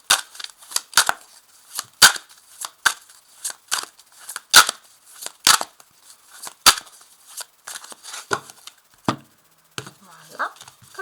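A tarot deck based on the Rider-Waite cards is shuffled by hand, producing close, crisp, irregular snaps and riffling clicks in quick bursts with brief pauses between.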